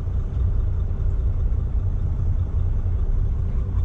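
Trucks rumbling in a traffic jam while crossing the Bronx, a steady close low engine drone and road noise with no voices.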